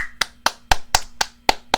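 Hand claps from one person on a live stream, eight sharp even claps at a steady beat about a quarter second apart, close and loud, with no talking between them.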